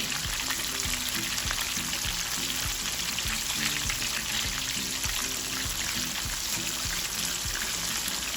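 Continuous crackling sizzle of chicken strips frying in oil of at least 300 degrees, close and steady, with faint low thumps underneath and no talking.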